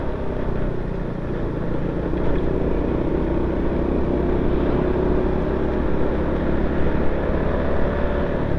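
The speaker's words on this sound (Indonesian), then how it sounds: "Bu, ini bisa dilihat truk-truk gede lagi melintas." Big trucks pass along a busy road near Ngadirojo in Wonogiri, giving a steady, rumbling low engine drone with swelling traffic noise from inside a moving vehicle. No one speaks.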